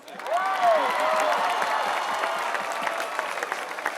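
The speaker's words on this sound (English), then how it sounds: "He needs a round of applause." A crowd at a Baylor men's basketball parade breaks into steady applause, dense clapping that carries on throughout, with a few whoops rising at the start.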